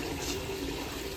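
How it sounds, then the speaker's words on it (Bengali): Water running steadily for a cow, a continuous hissing pour with a faint tonal gurgle throughout, moderately quiet and alone. "এখন জল দিব। দাঁড়া, জল ভরার টাইমটুকু দেয় না।"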